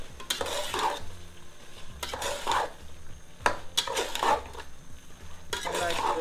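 Lamb shoulder meat stirred in a pot of dal curry, with repeated scraping stirs of a utensil against the pot roughly every second, over a low steady sizzle, close and clear.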